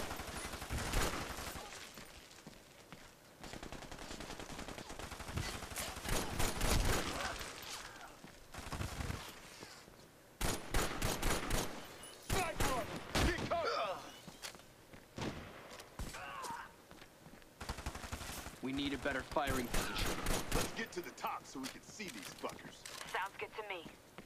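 Heavy gunfire in the video game Army of Two, with bursts of shots and a .50 caliber weapon firing in loud, repeated volleys across a busy battle soundscape, mixed with other game sounds.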